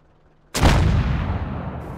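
A tank cannon in a video game fires at an enemy tank, a single loud, close blast with a sharp onset and a long rumbling decay that fills the rest of the moment.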